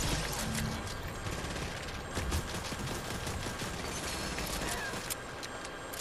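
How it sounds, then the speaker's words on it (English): Gunfire in a first-person shooter video game, a dense, continuous rattle of shots and clattering mechanical noise that runs steadily for several seconds. "Is that you shooting?"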